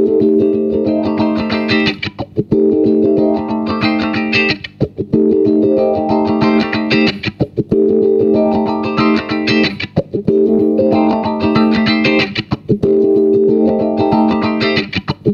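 An electric ukulele chord strummed repeatedly with a wah pedal sweeping open over each four-beat bar, then closing, in a steady looping pattern, loud and distorted.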